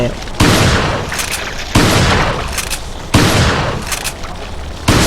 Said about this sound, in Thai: ลูกซองยิงระยะไกล